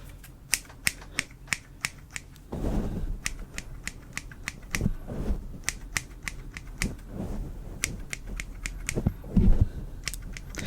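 Hairdressing scissors, including textured thinning shears, snip repeatedly in crisp, close metallic clicks at a fairly regular pace, with soft brushing and rustling of hair between cuts in a quiet room.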